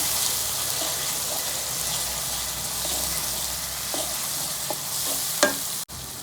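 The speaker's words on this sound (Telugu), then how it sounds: "ఇది కూడా మంచిగా ఆయిల్లో కొంచెం మంచిగా ఫ్రై కావాలి." Spices and ginger-garlic paste fry in hot oil for methi chicken, giving a steady soft sizzle throughout with a few light stirring clinks near the end; no one speaks.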